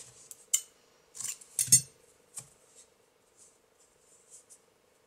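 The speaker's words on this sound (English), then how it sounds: "Now we can fasten off and cut the yarn." Scissors snip crochet yarn after fastening off, with a few crisp close blade clicks and small handling taps, brief and isolated against near silence.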